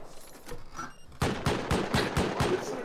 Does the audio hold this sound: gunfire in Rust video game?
yes